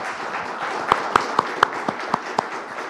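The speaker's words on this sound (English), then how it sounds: "Let's give our panel a round of applause." Scattered audience clapping for a panel at a blockchain technology talk, a thin spread of hand claps with a few sharp, distinct claps standing out over a soft background.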